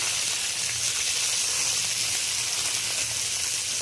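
Chopped onion and tomato drop into a hot pan of oil with whole cumin, giving a steady, close hiss and sizzle that holds evenly throughout with no voices.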